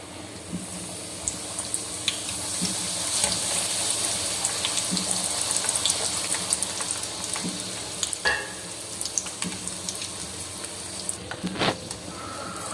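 Poori frying in hot oil in a home kitchen, a continuous close sizzle with occasional stirring clinks and splashes, no talking.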